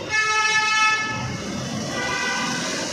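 A Kolkata metro train stands at Hemanta Mukhopadhyay station, its loud tonal horn or whine sounding for about a second before fading into a steady rumbling station hum.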